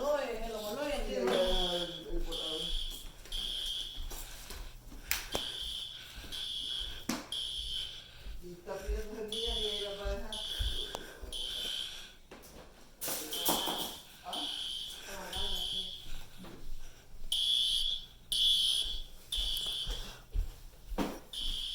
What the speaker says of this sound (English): Alarms are going off.